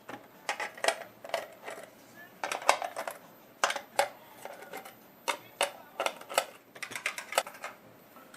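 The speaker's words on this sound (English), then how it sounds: "Put the pots in, put the board in." Pots and a board being loaded into a tight-fitting space, with repeated clattering knocks and scrapes of crockery handled close up in an uneven rhythm over a quiet background.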